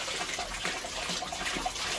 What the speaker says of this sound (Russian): Теперь я должен подать воздух сюда, чтобы он, поднимаясь, поднимал все со дна и выплевывал обратно.